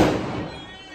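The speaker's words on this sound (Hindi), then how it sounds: "आज बहुत ज्यादा बम पटाखे बज रहे हैं, बहुत ज्यादा बज रहे हैं।" A firework or firecracker bursts during Diwali celebrations, a single loud crack fading quickly into a decaying rumble over about a second.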